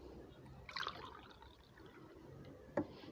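Water poured into flour for kneading dough at home, a faint trickle and splash with two brief louder splashes, alone and close.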